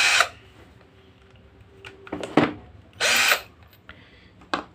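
An Orion CD2100B cordless drill whirs in a few short bursts with pauses between, close and fairly loud, with small mechanical clicks in the gaps.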